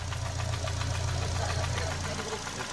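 A car engine knocking at idle, a steady mechanical clatter with a low droning rumble underneath, continuous and fairly close throughout.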